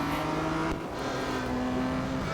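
An Aston Martin Vantage GT3 accelerates in the mobile racing game Real Racing 3, its engine note droning steadily and rising in pitch, loud and close, with a brief dip as the gear shifts.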